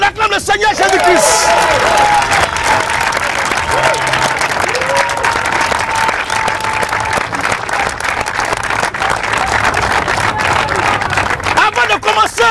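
A large congregation applauds and cheers loudly and steadily while acclaiming Jesus Christ at a Christian gathering, with dense clapping and crowd babble running throughout at near-constant volume.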